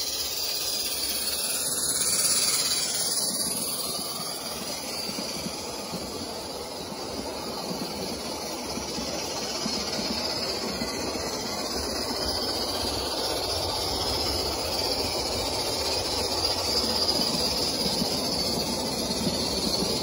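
Continuous rumbling and hissing of a 1:29-scale live steam USRA 0-6-0 locomotive pulling a long train steadily along the track, with a faint high insect-like whine above it.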